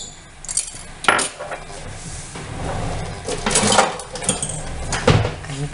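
Tortilla dough being mixed in a bowl gives irregular clinks and scrapes of utensils against the dish, close and moderately loud, with bursts of clatter and no talking.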